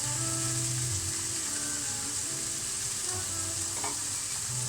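Beef bavette steaks fry in ghee with a continuous bright sizzle and crackle, steady and close, with a faint low hum beneath and no talk.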